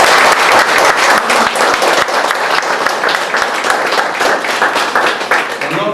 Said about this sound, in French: je vous demande de l'applaudir aussi